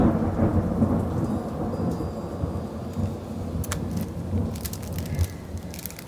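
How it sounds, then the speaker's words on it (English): A thunderstorm with steady heavy rain and deep rolling thunder rumbling continuously, loud and close, with no voices over it. "So this storm should blow over shortly."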